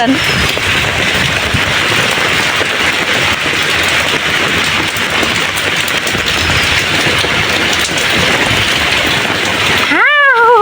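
Heavy rain from Cyclone Remal pours down in Chittagong, a loud, dense, continuous hiss close by, with a brief rising tonal sweep near the end.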